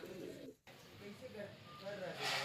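Tournament flying pigeons and their young coo softly nearby in low, faint, rolling calls under a quiet background.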